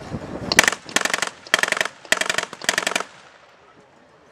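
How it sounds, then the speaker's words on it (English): Heavy automatic gunfire during the 1995 Chechnya war, loud rapid bursts of machine-gun fire in about five volleys over three seconds, then fading to quiet. "Russians are laying down heavy fire now."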